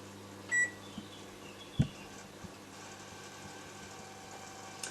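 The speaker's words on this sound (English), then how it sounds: "So I'm just going to melt it in the microwave for a few seconds." Kitchen microwave oven running while melting butter, a low steady hum with a few short beeps and faint clicks scattered over the few seconds.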